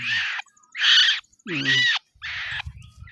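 A megapode (tabon bird) chick gives loud, harsh screeching calls in four bursts separated by short silences, with a brief low voice murmuring between them.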